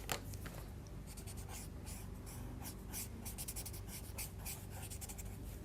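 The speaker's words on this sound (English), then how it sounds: "What we can do is clean it on the sandpaper block. So I'm just going to bring it in and just literally rub away the black." A paper stump blackened with charcoal is scrubbed clean on a Derwent sandpaper block, making a close, quiet, continuous gritty rubbing with quick repeated strokes and no voices.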